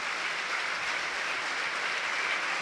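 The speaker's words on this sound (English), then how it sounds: "Leeds subs appear down below, hence the applause in the West Stand" Applause from a football crowd in the West Stand at Leeds United's stadium, a steady, dense, hissing wash of clapping that stays even throughout without breaks.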